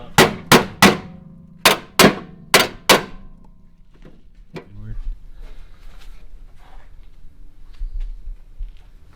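Metal hammer blows in a car frame shop, about seven sharp ringing clangs in two quick groups, loud and close, followed by quieter shop noise and a few faint knocks.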